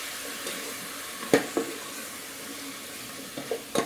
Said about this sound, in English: So you'll go ahead and stir all that in like that.